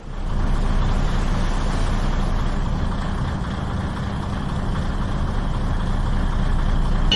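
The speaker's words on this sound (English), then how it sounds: "History's 3 propellant engines would start as he leaves port." The three propeller engines of a ship leaving the port of New York make a loud, steady, low mechanical rumble and hum that runs unbroken throughout, with no voices.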